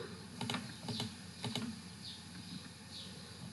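Keys tapped on a computer keyboard while working in a spreadsheet, a few quick clustered clicks followed by quieter isolated taps, close and alone.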